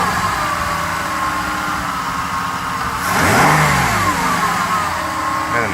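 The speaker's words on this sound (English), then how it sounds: "I have to warm the engine up a little bit" A Mercedes SL600 engine warming up, idling steadily then revving up and settling back down around midway, loud and close with no talk.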